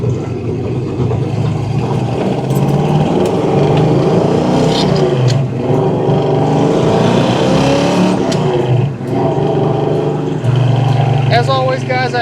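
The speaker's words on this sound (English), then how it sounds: "Clutch feels good going up and down through the gears." A 1972 Chevrolet Chevelle on the road, its engine droning loudly and steadily as it works through the gears, with someone talking over the engine.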